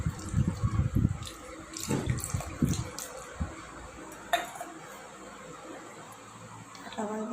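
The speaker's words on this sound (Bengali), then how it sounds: "কত জলে গপু স্নান করছে, দেখুন।" Water poured repeatedly over a small Gopal (Krishna) idol during a home bathing ritual; close, loud splashing bursts in the first few seconds give way to a steadier, quieter trickle, with a voice now and then.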